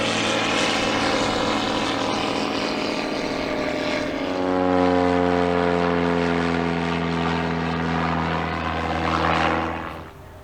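A radial-engine propeller aircraft runs at an airshow with a loud, sustained droning rumble, its engine pitch settling into a steady harmonic tone midway and holding, fading slightly at the end, no talking.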